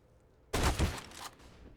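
Gunfire from a Counter-Strike match on the Overpass map, a dense burst of loud, close shots packed into under a second, followed by a short tail of quieter echo.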